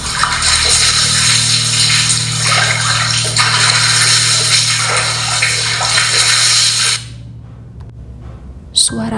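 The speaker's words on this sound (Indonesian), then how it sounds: "Suara air seperti ada orang yang sedang mandi, disertai suara keran yang menyala." Water gushes steadily from a running tap in a bathroom as someone bathes, then cuts off abruptly near the end, leaving near-silence broken by a brief click.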